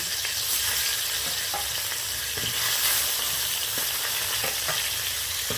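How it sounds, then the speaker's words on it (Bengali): Pieces of sole fish fry in a wok with a steady, dense sizzle and occasional soft stirring clicks, heard up close with no talking. "সেকেন্ড ব্যাগ মাছ আমি আবার কড়াইয়ের মধ্যে দিয়ে দিচ্ছি ভেজে নেওয়ার জন্য।"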